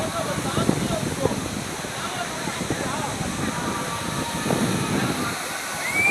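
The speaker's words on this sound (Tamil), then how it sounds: "செல்லக்கூடிய தண்ணீர் இங்கே நீர்வீழ்ச்சியில் இருந்து புளியஞ்சோலை செல்லக்கூடிய தண்ணீர் இது" Agaya Gangai waterfall in the Kolli Hills roars steadily as a broad, continuous wash of falling water, loud and close throughout, with faint voices mixed in.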